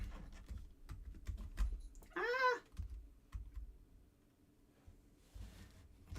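A cat treads across a computer keyboard, setting off soft scattered key clicks and thumps, with one short meow in the middle, all close and quiet indoors.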